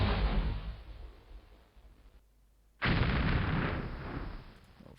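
Massed gunfire from the Civil War strategy game Battleground: Antietam rolls out as a dense, loud crackling roar that breaks off briefly and then surges back in full volume, with no voices.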